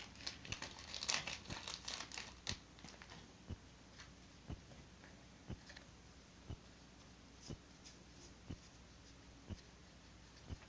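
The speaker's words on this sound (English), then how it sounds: "Now it's time for the Leafeon pack. Oh, cool. Open this up." A Pokémon card booster pack wrapper crinkles as it is opened, with a burst of dense crackling at the start, then quiet, evenly spaced ticks about once a second, all faint and close with no talking.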